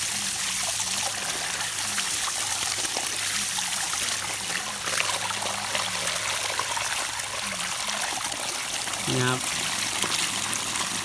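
Water gushing steadily from a full two-inch pipe fed by a solar-powered pump, a loud continuous rushing flow heard up close, with someone speaking over it.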